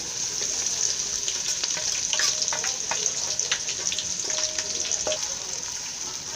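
Onions and ginger frying in bleached palm oil give off a steady, moderate hiss, broken by occasional sharp clicks and scrapes of stirring, heard close and alone.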